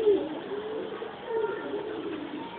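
A young Taiwan pigeon is being caught by hand. It coos softly and repeatedly, close by, among light handling noise.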